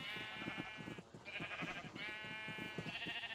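Blocky sheep in Minecraft bleat in repeated wavering calls, several overlapping bleats in close succession over a steady game backdrop.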